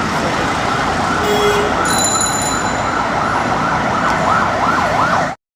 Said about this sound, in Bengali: অ্যাম্বুলেন্স চলে যাচ্ছে তার গন্তব্যে